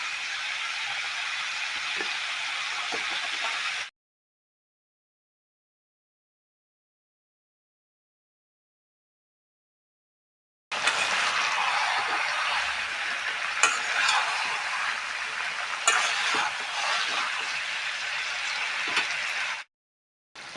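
Taro stolons frying in a pan, a steady close sizzle with stirring, cut off by a long silence, then sizzling again loudly before stopping near the end.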